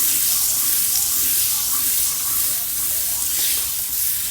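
Butter sizzles loudly and steadily in hot oil in a pan for a salmon and tomato cream sauce dish, an even, close hiss that stays strong throughout with only faint background murmur.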